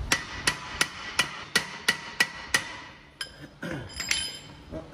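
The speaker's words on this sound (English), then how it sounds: "Now, if you're in a shop and you've got tools, you can use a hammer and a punch." A hammer and punch strike the steel backing plate on a Jeep Wrangler JK axle during a long arm suspension install, about eight sharp metallic whacks in steady rhythm, followed by lighter clanks and shop noise.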